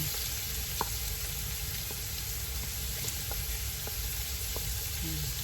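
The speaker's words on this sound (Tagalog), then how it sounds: "Step by step ang ating paggisa ng mga ingredients." Shrimp and vegetables sautéing in a pan for homemade spring rolls, a steady soft sizzle with a few sharp clinks of a utensil against the pan scattered throughout.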